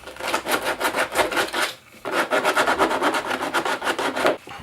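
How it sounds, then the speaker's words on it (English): Coarse sandpaper rubbed back and forth over a plastic car body panel around a freshly cut hole on a Ford Fiesta ST, a close, loud rhythmic rasping of quick even strokes with a brief pause midway. "Now I'm just going to take some sandpaper, some decently coarse stuff."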